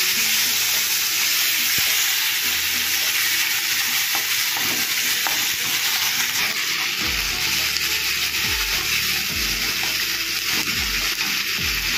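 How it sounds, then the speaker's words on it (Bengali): Onion, ginger-garlic paste and tomato paste sizzling in a pan for a mushroom curry, a steady loud fry with bursts of stirring scrapes and a few sharper crackles partway through. "এটা ভাজা ভাজা হোক"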